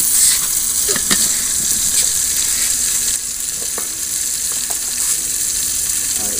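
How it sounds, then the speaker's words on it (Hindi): Tomatoes, green chili and ground garlic fry in a pan with a steady, loud sizzle and occasional stirring clatter throughout, no talking. "तो अब हम इसमें टमाटर हरी मिर्च भी डाल देते हैं और इसमें ये लहसुन जो हमने पीस के रखा है ये भी डाल देते हैं"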